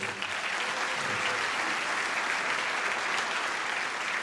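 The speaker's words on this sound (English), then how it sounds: "So give them another round of applause for them." A concert audience claps for young musicians on stage in a sustained, even burst of applause filling the room, loud and continuous from start to finish.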